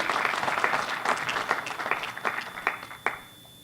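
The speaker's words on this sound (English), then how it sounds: "I guess I shouldn't be clapping near the microphone" An audience claps steadily at a Year of the Ram Forever Stamp unveiling with Mayor Lee and the U.S. Postal Service, a dense patter of hands with a few close, distinct claps before it tapers off.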